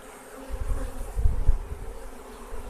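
Spring honeybees hum in a low, steady drone inside an opened hive, swelling slightly in the middle, close by and continuous with no voices.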